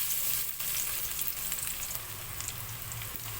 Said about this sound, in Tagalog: Para ating igisa yung ating bawang at sibuyas.